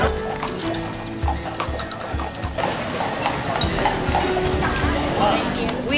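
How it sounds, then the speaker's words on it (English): Horse hooves clip-clop at a steady walking pace on car-free Mackinac Island, with people talking nearby and outdoor background bustle. "horses."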